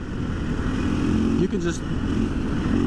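A 2024 KTM 500 EXC-F dirt bike rolls along while the throttle is blipped, its engine droning loud and steady with a brief dip and rise midway. A rider talks briefly over the engine.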